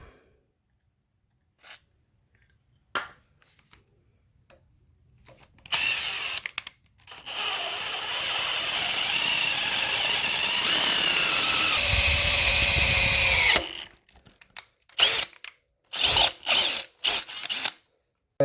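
A power drill bores a larger pilot hole into a transmission bell housing with a sustained, loud whining grind for several seconds, framed by short bursts of the drill starting and stopping, close by with no talking.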